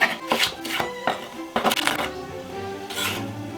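A knife dices peppers on a cutting board in quick, uneven bursts of sharp taps, close and fairly loud.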